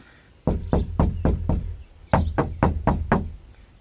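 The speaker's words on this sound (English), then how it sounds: "Definitely sounds like it's more dampened." Knuckles knocking on a 1989 Jeep Cherokee body panel lined with FatMat sound deadener, two bursts of about six dull, close thuds each, deadened rather than tinny.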